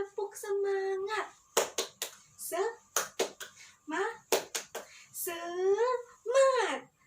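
A teacher leads a class of young children in the rhythmic 'tepuk semangat' clapping chant, with sharp bursts of clapping alternating with chanted call-and-response voices. The claps land in short, close, loud clusters between the children's sung replies.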